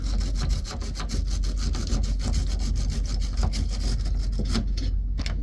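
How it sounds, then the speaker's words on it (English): Stiff wire brush scrubbing back and forth over a cracked sewer valve flange on a 1977 GMC Eleganza II motorcoach, a steady close rasping scour with rapid repeated strokes and no pauses. "So I'm gonna kind of scuff all this up the best I can."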